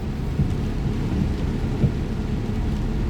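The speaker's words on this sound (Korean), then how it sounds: "이 비가 오늘 참 슬프게 내립니다." Steady rain falling outdoors with low, rolling thunder rumbling underneath, a dense loud wash broken by a few soft low thuds, no voices.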